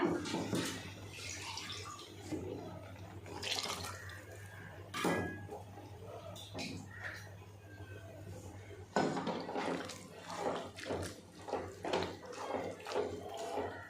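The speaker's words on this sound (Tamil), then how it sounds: "நான் கொஞ்சம் தண்ணி ஊற்றிக்கிறேங்க." Water runs and splashes into a metal pot amid clinking of kitchenware while making okra curry, with a steady background hum.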